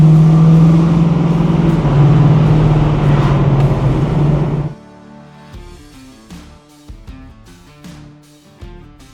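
A 1971 Chevrolet Nova SS pro-touring muscle car with a 375 hp engine and 4-speed gearbox drives with a loud, steady engine drone for several seconds, then cuts off, leaving music in the background.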